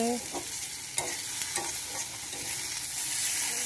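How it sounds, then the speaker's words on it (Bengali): Potatoes for aloo bhaji sizzle in hot oil on a home stove, the steady close frying hiss broken by a few sharp clinks and scrapes of stirring, with no voices. "হচ্ছে এই যে আলু ভাজি, আলু ভাজি হচ্ছে,"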